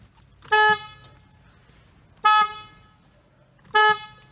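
Replacement horn on a Volkswagen MKV GTI, sounding three short, loud honks spaced about one and a half seconds apart, each a bright steady tone lasting about a quarter second, with quiet between.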